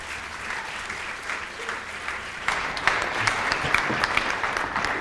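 An audience at a school morning meeting applauds steadily to welcome speaker Lisa Luckett, a dense, continuous wash of clapping that grows slightly louder partway through.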